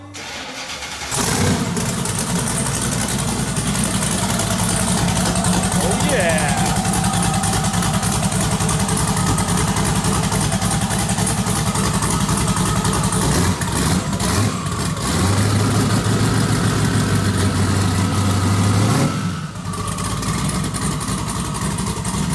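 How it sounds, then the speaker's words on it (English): A drag car engine idles loudly and steadily while warming up before a 2-step launch, its deep rumble continuous throughout, with a brief rev near the end and a voice speaking once. "we're gonna let it warm up so we don't just bang out the 2-step with no degree in it"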